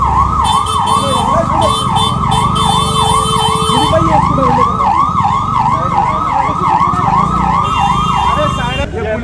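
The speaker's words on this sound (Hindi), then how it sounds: "ये ऐसे सायरन बजा रहे हैं यहाँ पर कि लोग डर जाएंगे" A police vehicle siren wails loudly and nearby in a rapid rising-and-falling cycle amid street commotion during Indian election voting, with other siren tones and traffic noise layered underneath.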